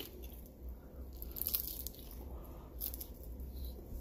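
Faint crunching bites into a crispy, cheesy store-bought snack, a few soft crunches up close at low volume with quiet chewing, no talking.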